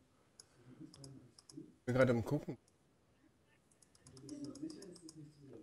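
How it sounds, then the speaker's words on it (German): An old computer keyboard clicks in sparse, light taps during a Minecraft gaming session, with a brief stretch of German speech in the middle. "Steinzeit-Tastatur wieder rausgeholt."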